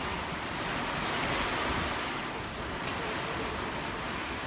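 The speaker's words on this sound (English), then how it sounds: "We've had a recent wind gust of 56, and the worst of it is right now." Hurricane Ian's strong wind and heavy surf roar continuously and loudly, with gusts buffeting the microphone and crashing waves blending into a dense, unbroken rush.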